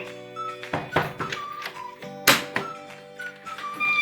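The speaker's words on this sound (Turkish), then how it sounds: "kapı çalıyor" A few knocks on a door land as short, dull thumps spread through the clip with background sounds, one louder hit near the middle.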